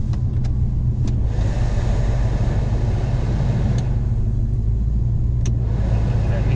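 A numbers-matching 1978 Chevrolet Camaro LT with its 350 V8 idles with the air conditioning running: a steady low rumble, close and even, with a few faint clicks over about six seconds.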